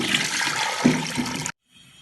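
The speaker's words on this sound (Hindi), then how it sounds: "यहाँ पर मैं 3 मीडियम साइज के बोल के करीब में इसके अंदर पानी ऐड कर रही हूँ" Water pours steadily and loudly into a pot for Degi-style Sindhi pulao, a broad rushing gush lasting about one and a half seconds before cutting off abruptly, followed by near silence.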